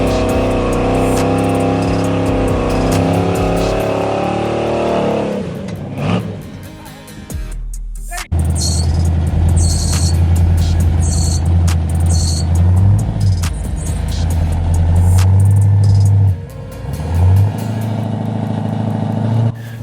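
A rock crawler's engine revs hard and loud while the vehicle climbs steep rock in Boulder Canyon, with sustained high-RPM roaring, a brief drop and pause midway, then renewed throttle surges.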